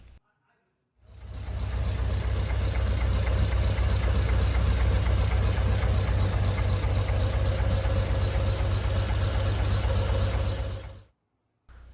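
A Ford flathead engine in a 1953 F100 truck runs at a steady, lumpy idle for about ten seconds, close and even, with a faint knocking pulse. It starts abruptly after a short quiet and cuts off near the end.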